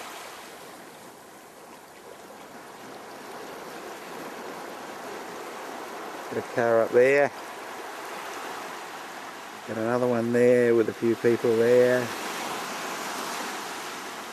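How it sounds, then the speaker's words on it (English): Gentle ocean waves wash and lap onto the shore at Steep Point, Australia's westernmost mainland tip, a steady soft surf hiss throughout with someone speaking briefly over it twice. "We've got another wave lapping at my feet here."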